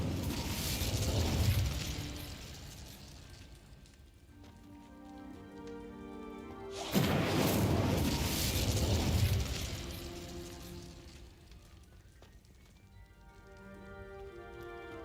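Two whooshing fiery bursts from an Incendio spell in Hogwarts Legacy, each a rushing roar that flares up and fades into a lingering crackle and ringing tones.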